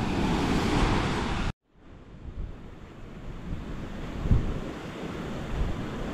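Rough ocean surf pounding rocks along a Big Island coastline on a windy morning: a loud roar of crashing water and wind noise that drops suddenly, then rebuilds into continuous churning waves.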